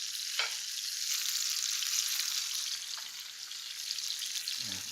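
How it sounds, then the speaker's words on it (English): Tomatoes for a ricotta frittata sauté in a pan with a steady, close hiss of sizzling oil, and a few faint clinks from a utensil. "I want to just saute them a little bit before I nestle them in the frittata"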